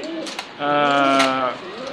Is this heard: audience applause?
no